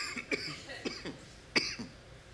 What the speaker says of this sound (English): No, I'm coughing, in case you didn't notice.